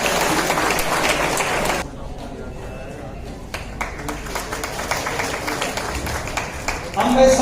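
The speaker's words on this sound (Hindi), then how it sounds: "तालियां" A crowd at a political party meeting in Goa claps loudly, pauses briefly, then resumes clapping under an announcer's voice, with a fresh burst near the end.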